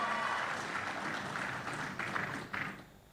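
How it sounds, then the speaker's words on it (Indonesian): A gathering claps in a soft, diffuse round of applause that stays fairly even, then thins out and fades away in the final second. "Ya tepuk tangan tuh"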